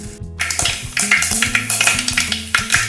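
A tempering sizzles in hot oil in a clay pot for tomato saaru, with a fairly loud, steady crackle broken by repeated stirring knocks and scrapes against the pot.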